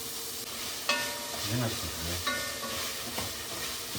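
Ginger garlic paste cooks in a pan for a Ratnagiri chicken curry, with a soft, steady sizzle under several spatula scrapes and light knocks.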